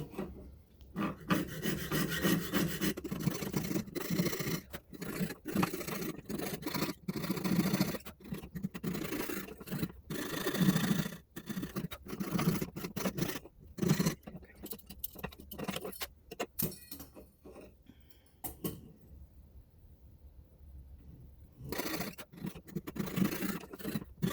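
A fine jeweler's saw in a saw frame rasps back and forth in quick, steady strokes, close and soft, pausing briefly before the scratchy sawing resumes.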